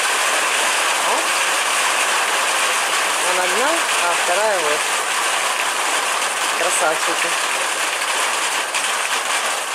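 Constant hiss of heavy summer downpour falling, loud and unbroken, with someone talking briefly in Russian partway through.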